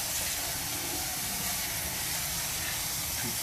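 Water rinses a soaked aggregate sample, probably broken-down clay and friable particles from a lab wash test, making a steady, loud, close hiss of running water that holds unbroken throughout.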